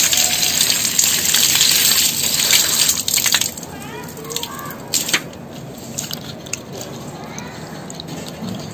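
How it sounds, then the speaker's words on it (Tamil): Cut fish pieces being washed in water: splashing and trickling up close, a busier gush at first, then intermittent drips and small plops. "இதோ இப்போ தண்ணியில் வந்து நல்லா க்ளீன் பண்ணிக்கணும்."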